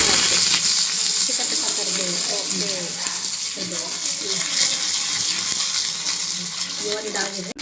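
Curry leaves hit hot ghee in a tempering for bamboo shoot gojju, a loud, steady crackling sizzle with sputtering pops throughout, close up.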